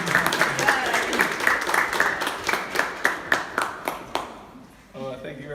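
An audience claps to welcome a speaker to the stage, a few loud hand claps in an uneven rhythm over a light patter of applause that thins out and stops, followed by the start of a voice.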